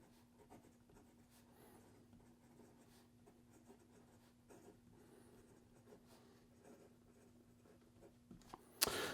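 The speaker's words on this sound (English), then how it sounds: "here we go with the rest of the writing sample" A broad Bach-nib fountain pen filled with saturated purple ink scratches softly across paper in short, irregular strokes, faint and close, ending with a sharper bump or click.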